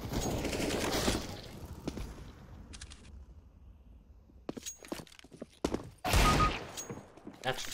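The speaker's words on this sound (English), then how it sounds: "That was quite a slow shot. That hit the box." Gunfire in the video game CS:GO: sharp broadband shots with a heavier cluster early on, scattered clicks and impacts in the middle, then another loud burst, over a steady game-ambience bed.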